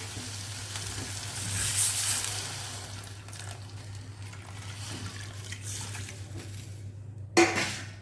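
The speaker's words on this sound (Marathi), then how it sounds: "आता आपल्याला ह्याच्यामध्ये पाणी घालायचं आहे." Water goes into a pan of sizzling stuffed brinjal masala, and a steady frying hiss carries on throughout, with a brief clatter near the end.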